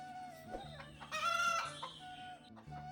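Hen clucking nearby in a quiet farmyard, a few short rhythmic clucks interrupted by a louder burst of calls in the middle and then resuming softly.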